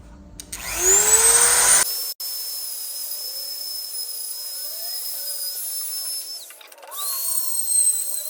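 Dremel rotary tool shaping an ambrosia maple yarn bowl, a loud high-pitched whine that winds up, cuts out, then runs as a thinner steady whine before revving up again near the end.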